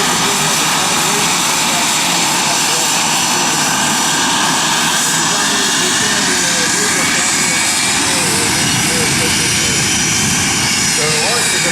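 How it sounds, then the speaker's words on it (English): An L-39 Albatros jet roars continuously at the Culpeper air festival, a loud sustained turbine whine and rumble with a voice talking over it throughout. "Just heard Art Nalls start up the L-39 Albatros"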